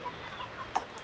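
Chickens on a farm, sheltering up high during light drizzle after heavy rain, give soft scattered clucks and short calls over a steady background hiss, with one brief louder call near the end.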